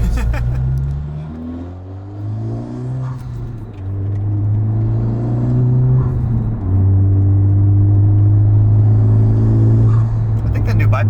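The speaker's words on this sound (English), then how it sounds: "I think that new bypass valve's louder than the old one." An FL5 Honda Civic Type R with a new turbo bypass valve accelerating, heard from inside the cabin as a deep, rising engine drone through a couple of gear changes, with occasional voices over it.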